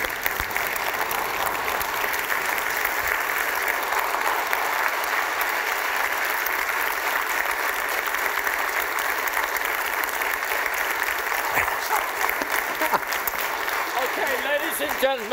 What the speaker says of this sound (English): How about a standing ovation for this guy?